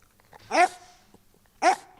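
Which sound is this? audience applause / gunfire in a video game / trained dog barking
trained dog barking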